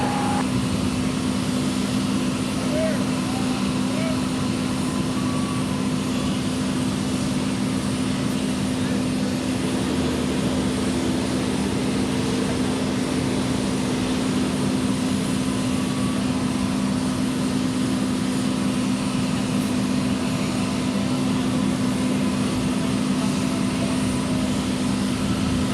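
Southwest airliner taking off from runway 30 right at San Jose Airport, a steady broad engine roar with a strong low hum holding level and continuous throughout, no talk over it.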